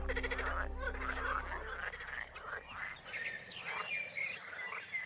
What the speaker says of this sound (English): with the green frogs croaking in the background